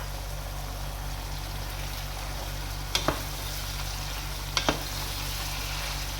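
Onions and peppers fry in oil for couscous with a steady, close sizzle throughout, broken by two pairs of sharp clinks from a utensil against the pan.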